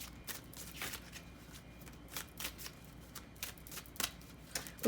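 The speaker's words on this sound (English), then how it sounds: "I'm going to go ahead and shuffle these cards" A deck of oracle cards being shuffled, a steady run of crisp riffling flicks and soft card slaps up close, repeating for several seconds with no voice over it.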